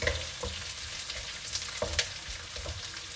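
Food frying in a pan, a soft continuous sizzle with scattered pops and light clatter of stirring, quiet and close.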